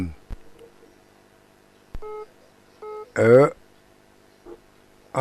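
Beeps and tones of a phone line interrupt a Thai Buddhist radio call-in program. Short repeated signal beeps are separated by silence, with bursts of nearby speech between them.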